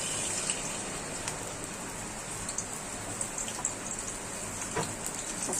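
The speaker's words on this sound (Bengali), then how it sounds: "ওই যে বৃষ্টির পানি ছিটা আইসা না, জানলা লাগাই দিতে হইব।" Rain pours steadily outside a window, a dense continuous patter with occasional closer splashes, fairly soft and alone.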